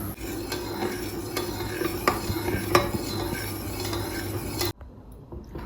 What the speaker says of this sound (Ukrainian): і помішуючи, буду доводити до кипіння.